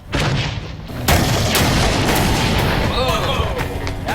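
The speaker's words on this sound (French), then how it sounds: "Bon, testons la grenade moderne." A modern grenade explodes in an outdoor MythBusters test: a sharp, loud blast followed by a rumbling roar and a long, dense decay, with voices reacting faintly afterward.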